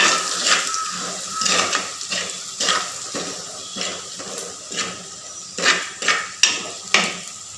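Chili and turmeric powder stirred into a pan for an Ayala fish curry, a metal spoon scraping and clanking against the vessel in a steady series of close, sharp strokes over a faint sizzle.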